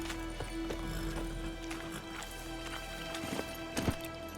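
Hoofbeats of the horse Plotka (Roach) in The Witcher video game, a steady clip-clop trotting under background game music, with a couple of louder hoof strikes near the end.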